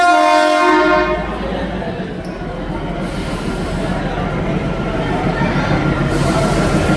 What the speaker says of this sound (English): this train is going back and it will again go back to Kalka